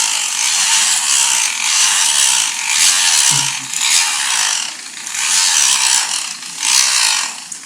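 Small rotary tool spinning a cup bur over the wire end of an earring hook, a high buzzing grind that swells and fades in repeated passes, close and loud.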